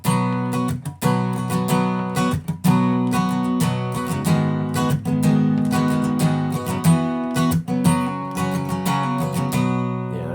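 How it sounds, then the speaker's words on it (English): An acoustic guitar plays a muted strumming pattern: close, ringing chords broken by short percussive choked strokes in a steady rhythm, with no voices. "So there's a lot of muted strumming here,"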